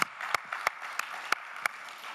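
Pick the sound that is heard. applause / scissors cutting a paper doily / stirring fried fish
applause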